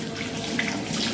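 Tap water runs steadily over fresh beetroot being rinsed at a kitchen sink, a close, continuous splashing wash with no talk.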